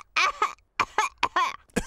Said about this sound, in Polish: wszyscy dorośli zarazili się kaszlem Pedra